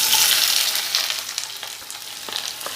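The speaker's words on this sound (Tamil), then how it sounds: "ஆயில் நல்லா ஹீட் ஆனதுக்கப்புறமா பெரிய வெங்காயம் கொஞ்சம் நேரம் நல்லா வதங்கட்டும்." Two chopped large onions dropped into hot oil for a pepper chicken, a loud bright sizzle bursting at the start and gradually easing into a steady crackling fry, up close with no speech.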